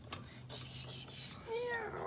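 A person imitates a cat's meow, a quiet rising and falling mewing voice near the end following soft rubbing and breathy noise close by.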